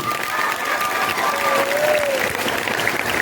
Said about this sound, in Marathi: जरा जोरदार टाळ्या होत्या त्याच्यासाठी